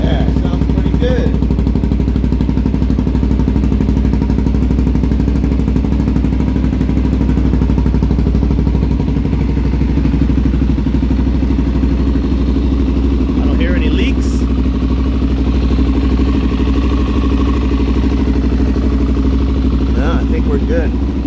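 Close, steady idle of a Suzuki DRZ 400 SM fitted with a Delkevic exhaust, an even mechanical chug that runs unbroken throughout while someone talks briefly over it.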